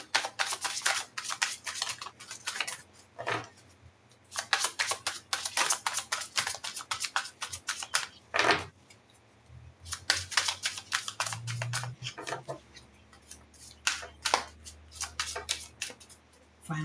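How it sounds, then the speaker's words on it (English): A deck of reading cards is shuffled by hand in soft, quick riffling bursts with short pauses between them, fairly quiet and close. "Final shuffle."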